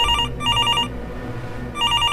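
A telephone rings in two loud, bright electronic bursts, pauses, then starts a third ring. The tone is close and clear and sits over a low background rumble.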